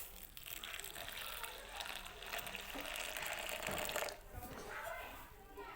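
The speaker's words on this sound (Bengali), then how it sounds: "এবার এর মধ্যে দিয়ে দিব হচ্ছে গরম দুধ।" Hot milk is poured onto jaggery in a home kitchen, giving a continuous broad liquid rush that holds steady for several seconds with a slight surge near the end.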